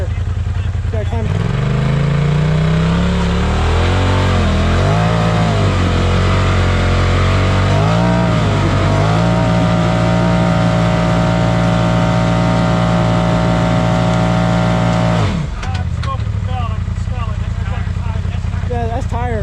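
A Can-Am off-road vehicle climbs a rock on a crawl trail, its engine loud and close. The revs rise and fall in repeated surges, then hold at a strained steady pitch before cutting off abruptly, with voices talking over it.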